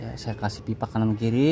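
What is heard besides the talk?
No everyday noises stand out.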